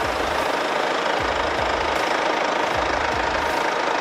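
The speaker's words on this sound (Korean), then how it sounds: "엔진 소리도 일정하고 좋네요" Mercedes-Benz E250 BlueTEC 4MATIC diesel engine idling with the engine bay open, a close, steady low rumble with a faint periodic knock and an even mechanical hiss, no one talking.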